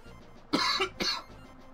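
Two short, harsh coughs from allergies in quick succession, fairly close, over a quiet background with faint murmuring.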